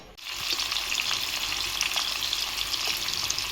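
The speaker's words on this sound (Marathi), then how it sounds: "तर आता तेल टाकून घेतले हे बघा, आणि आता कोळंबी आता फ्राय करणार." Prawns fry in hot oil in a home kitchen, a loud, steady crackling sizzle that bursts up right after they go into the pan and continues evenly without pause.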